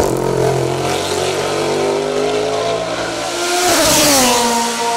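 A Norma CN+ 4-litre race car climbing a hill-climb course, its engine loud and close, with the pitch rising steadily, dropping briefly at a gear change and then climbing again.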